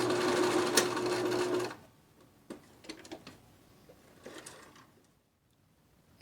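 A sewing machine runs fast and loud for under two seconds while stitching a line, then stops, followed by scattered clicks and small handling knocks as the fabric is adjusted.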